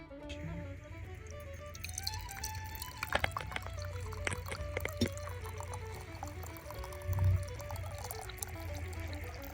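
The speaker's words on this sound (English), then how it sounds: "All right, we have our coffee poured." Coffee brewed the old-fashioned way from an 1896 recipe is poured into a cup, a trickling, gurgling stream whose pitch climbs as it fills, close and fairly quiet with no talking.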